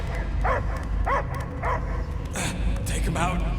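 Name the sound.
dog barking in video game Guardians of the Galaxy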